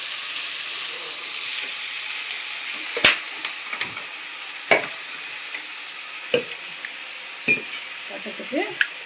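Tomatoes sautéing as rasam is added, a steady high sizzling hiss of frying with several sharp stirring clatters and scrapes, close and moderately loud, no voices.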